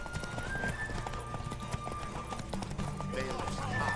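Horse hooves clip-clop at a steady galloping rhythm during a derby race in the video game The Witcher 3, with occasional whinnies and a voice speaking over the hoofbeats.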